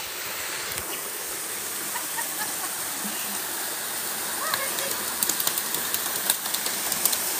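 A mountain waterfall in Cheongdo, South Korea roars in a loud, steady broadband rush, with small clicks and splashes over it near the end.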